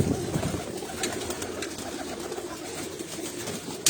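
Pigeons coo on a rooftop loft in a steady, overlapping murmur at close range, with soft rustling and no voices.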